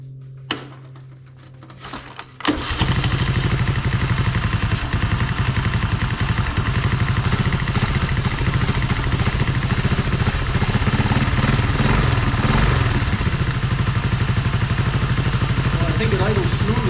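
A Honda 185S three-wheeler engine cranks with a few short bursts, then catches and settles into a loud, steady, close idle with a rapid clattering pulse. A voice is heard over it.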